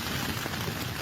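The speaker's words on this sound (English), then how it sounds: "but this one is raining on me" Rain from a passing storm cell patters steadily on nearby surfaces, a soft continuous hiss of drops with no voices over it.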